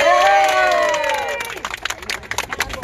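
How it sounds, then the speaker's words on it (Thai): Crowd applauding and cheering at a political rally outside a Bangkok police station, a dense roar of clapping and voices that starts loud and thins into scattered claps. "พ่อแม่พี่น้องประชาชนครับปรบมือให้คุณแพนกวินนิดนึงครับ"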